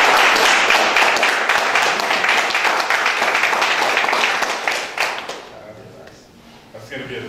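A room of attendees at a People Progressive Party Chamber of Commerce event in the Turks and Caicos Islands applauds the deputy leader, loud sustained clapping that fades after about five seconds into quieter room sound with a voice returning.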